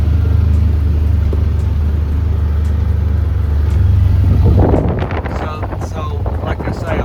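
A car drives through a wildfire-burned area, a steady engine and road rumble with heavy wind buffeting on the microphone, which gives way to rustling, clattering noise near the end.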